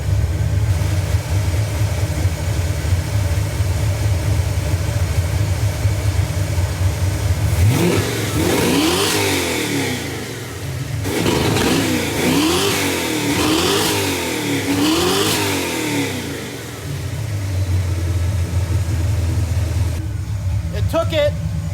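A car engine on a nitrous setup, seen on a street in Mexico, revs hard through its first purge: steady idle, then loud rising and falling revs with a brief cut, then back to idle, with talk over it.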